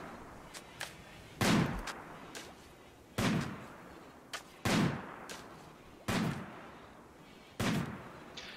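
Gunfire from the RimWorld game, with five or six loud, well-spaced gunshot blasts that each fade out, mixed with smaller sharp cracks against a quiet background.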